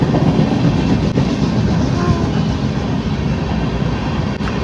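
A train rumbles loudly past nearby, a heavy continuous roar with faint rhythmic rattling of the cars.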